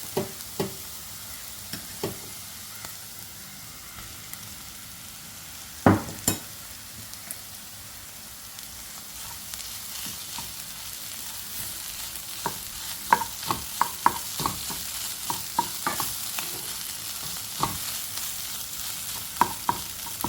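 Chicken and potato filling frying in a pan, stirred with a spoon, making soft, steady sizzling and sporadic scraping taps that grow busier toward the end, close and fairly quiet, with no voices.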